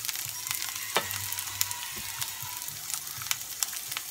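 Crushed garlic sautés in a little oil in a pan for a garlic curry, giving a steady, close, bright sizzle with scattered sharp crackles and pops throughout.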